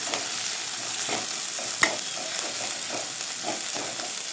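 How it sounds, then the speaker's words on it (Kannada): Capsicum and carrot fry together in a hot pan for idli manchurian, a steady sizzle broken by rhythmic stirring scrapes and one sharp clack of a utensil. "ಕ್ಯಾಪ್ಸಿಕಮ್ ಹಾಕ್ತಿದ್ದೇನೆ, ಕ್ಯಾರೆಟ್ ಕೂಡ ಹಾಕ್ತಿದ್ದೇನೆ. ಒಟ್ಟಿಗೆ ಫ್ರೈ ಆಗಲಿ."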